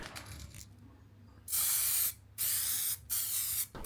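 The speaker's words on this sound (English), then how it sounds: "Now when spraying for the first time, don't be afraid, just evenly apply it all over the radiator." Aerosol can of satin white spray paint applied over a radiator, three loud steady bursts of hissing spray with short pauses between, close to the mic, preceded by quieter handling noise.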